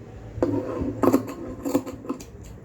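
Fabric being torn by hand while cutting a fancy suit for a three-year-old child, heard as several sharp ripping bursts close by, with short pauses between them and no talking.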